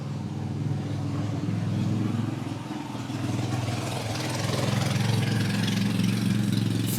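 A motorcycle engine runs steadily on a Cusco street at night, a mid-pitched buzzing drone that grows slightly louder toward the end.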